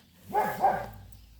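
A dog in an autumn garden gives two short, soft whining barks close by, with quiet outdoor ambience around them.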